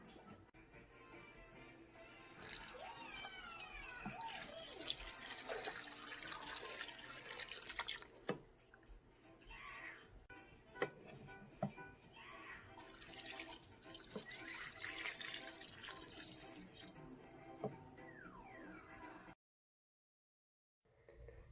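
Water poured into a pot of beef oxtail, knuckle bone and feet stew being made, a splashing, gurgling stream in two bursts with quieter drips and clinks between, close and alone before a brief silence.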